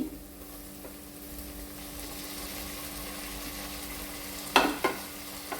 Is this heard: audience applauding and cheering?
no